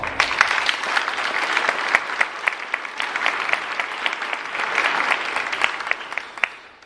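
Crowd applause at a jobs rally in Port Arthur, steady dense clapping with sharp individual claps standing out, sustained at even loudness throughout and tapering off at the end, no talking.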